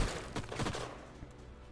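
A few quick gunshots crack out in a short burst in Age of Wonders: Planetfall, fairly faint with a soft tail, one last pop trailing after.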